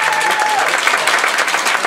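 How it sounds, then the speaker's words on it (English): Audience applause at a Toastmasters South Division International Speech Contest, a steady dense wash of many hands clapping that fills the room at full strength for the whole moment. "let's give her a round of applause"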